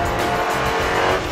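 A Superformance GT40 race car runs hard at Killarney circuit, its engine a loud, dense, continuous roar close by, with a rasping edge that hints at tyres working under braking.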